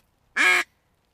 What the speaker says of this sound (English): There's a fucking duck straight out in front of us on the water.